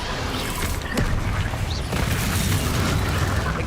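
Bombardo explosion spell in Hogwarts Legacy, a dense, loud booming blast with crashing debris rumbling continuously amid a chaotic game battle soundscape.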